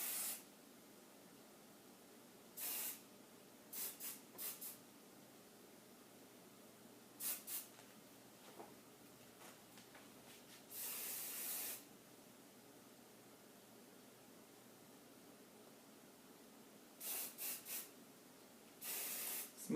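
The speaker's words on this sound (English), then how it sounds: "for the front and the bang section, I usually like to spray from up above" Several short bursts of aerosol spray hiss out, some single and some in quick clusters, separated by quiet pauses.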